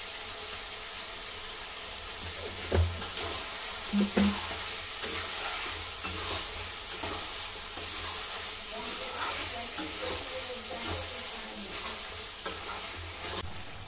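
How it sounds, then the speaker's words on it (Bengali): Chicken masala stirred and fried in a pan, a steady loud sizzle with spoon scrapes and knocks against the pan at irregular intervals, close up and without talk. "কষিয়ে নেব।"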